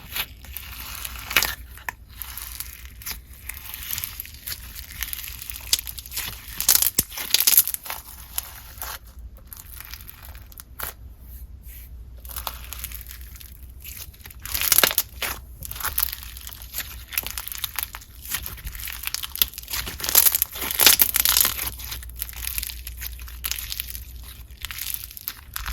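Store-bought slime in cute packaging is squished and crunched by hand, giving close, soft crackling, crinkling and crunching bursts in irregular clusters against quiet pauses.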